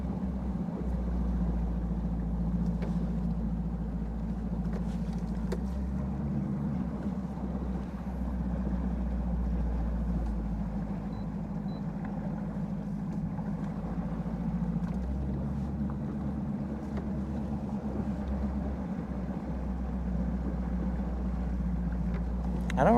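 A boat engine hums on Lake Guntersville, a steady, loud low drone that holds unbroken throughout while people talk over it.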